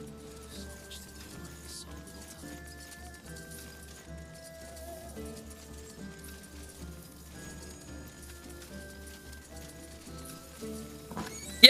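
Horses in Spellforce III clip-clop and snort faintly in the background beneath soft layered game music, with a sharp click at the very end.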